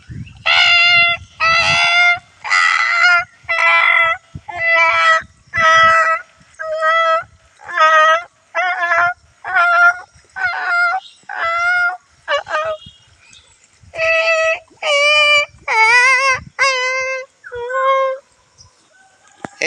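A human voice imitates a crying puppy with a long series of loud, drawn-out whining yelps, each rising and falling, repeated steadily and up close with short pauses between them.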